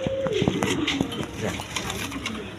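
Pigeons of Rajgolla and Giribaz breeds, including females kept for sale, coo softly and repeatedly while someone talks over them in a busy, noisy setting.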